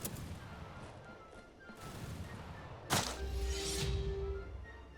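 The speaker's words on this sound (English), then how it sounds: "They fired at us, we firing at them." Gunfire in a Battle of Milazzo battle video game: a faint, distant rumble of shots, one sharp crack near the middle, then a sustained low roar and a brief tone, all without speech.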